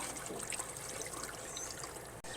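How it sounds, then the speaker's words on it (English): Steady trickle and splash of water running out of an RV water heater drain, an even, continuous hiss with no break until a brief cut near the end. "You should see water starting to come out"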